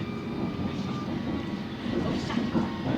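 A London Underground Hammersmith & City line train runs between stations, recorded from inside the carriage as a steady, moderately quiet rumble and rattle with slight swells and no talk.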